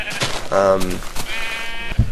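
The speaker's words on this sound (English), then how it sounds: "So, as you can see, this one spawns sheep." Sheep bleat from a Minecraft monster spawner, a game-world animal sound rising loud and wavering in the middle of the moment, with a voice talking around it.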